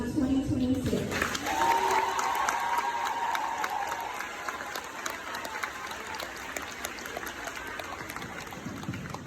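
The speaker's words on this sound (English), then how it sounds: "give a round of applause to the class of 2026" Audience applause at a middle school graduation ceremony for the class of 2026, a dense, sustained wash of clapping from a large crowd that stays steady throughout, with some voices and cheering mixed in early on.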